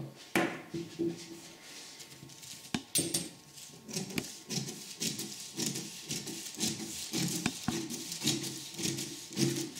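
Scissors cutting through a paper dress pattern for a flared dress, with repeated close snipping and crinkling strokes at a steady rhythm, some soft knocks on the table, and no talking.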